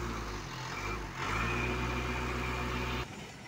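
A 2021 JAC 12-foot truck engine runs with a steady low drone, then steps up to a louder, faster note when the accelerator is pressed, holds, and drops back abruptly near the end.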